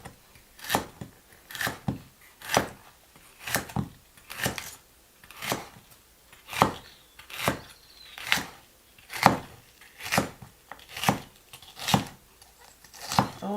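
Kitchen knife chopping celery on a board for a mung bean sprout dish, about fifteen crisp, evenly spaced cuts in a steady rhythm, close and moderately loud, with no talking.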